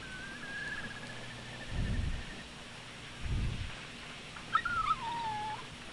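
A dog whimpering in the video game Rule of Rose: thin, high whines drawn out over a low ambient rumble, with two deeper thuds in the background, fairly faint and heard alone.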